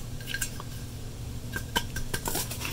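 Plastic parts of a pulp-separating juicer clatter and clink as they are washed and handled, with scattered close knocks and taps over running-water hiss.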